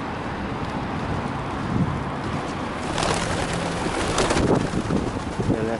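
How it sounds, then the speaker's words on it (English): A flock of pigeons gathers outdoors, with soft wing flaps and fluttering bursts rising above a windy, rumbling background; no one speaks. "see all these pigeons up here"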